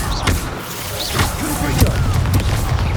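Confringo fire spell blasts in Hogwarts Legacy combat, a string of dull booming thuds and whooshing bursts in quick succession under battle noise, with brief voiced cries mixed in.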